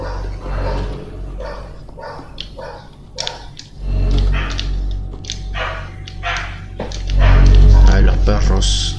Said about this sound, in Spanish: Ay, los perros.